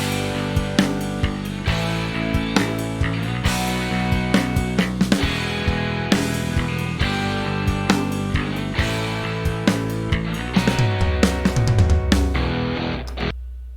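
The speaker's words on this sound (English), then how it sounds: "And we have the drum part for melody B together." A composed drum part for melody B plays as a steady groove of regular hits over sustained tones, with a busier fill of rapid hits near the end; no voices.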